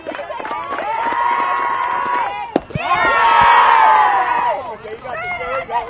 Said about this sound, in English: girls cheering might have flooded me out